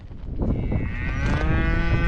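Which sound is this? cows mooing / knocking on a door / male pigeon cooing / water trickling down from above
cows mooing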